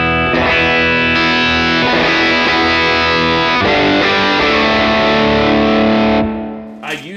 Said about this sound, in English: This is one I use for almost like a distortion.